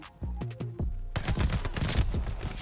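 An Owen submachine gun fires in a multiplayer shooter, first a few separate crisp shots, then a dense sustained burst of rapid gunfire mixed with other battle noise.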